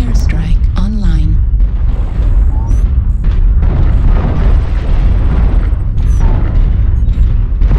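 Airstrike explosions in a faction-play match of the video game Sulfurous Rift, heavy booming blasts rumbling continuously and loudly throughout, with players talking over the barrage.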